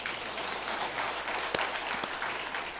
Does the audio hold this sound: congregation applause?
yes